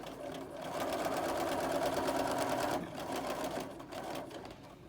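A sewing machine stitching fabric runs in a fast, even mechanical chatter at close range, pausing briefly before resuming for short bursts.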